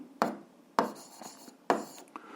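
Writing out an algebra exercise by hand, with three distinct pen or chalk strokes scratching close by in a quiet room, each a short rasping burst.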